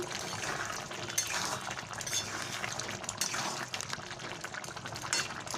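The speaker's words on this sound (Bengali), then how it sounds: "গরম মশলা দিয়ে দিলাম দিয়ে এবারে আমি এটাকে নাড়িয়ে নেব মিশিয়ে নেব পুরোটা" A spoon stirring a vegetarian potato, pointed gourd and pumpkin curry seasoned with garam masala in a pan, with soft continuous scraping, clinks and wet sizzling at low volume.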